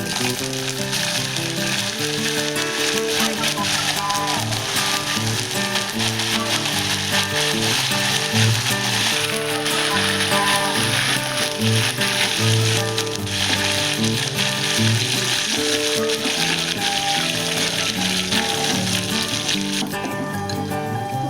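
Onions and curry leaves frying in a pan make a loud, steady, dense sizzle with crackling throughout, close up and without any talking.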